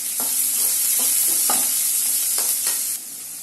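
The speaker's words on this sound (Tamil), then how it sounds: "அந்த வெங்காயம் வந்து பொன்னிறமாக மாறுற வரைக்கும் நல்லா வதங்கணும்" Onions frying and being stirred in a pan for beetroot poriyal, a steady close hiss of sizzling oil with several scraping stirs of the spatula, no voices.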